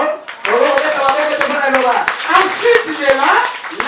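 A church congregation applauds during a Sunday service, steady rhythmic clapping running throughout under a loud preacher's voice in French.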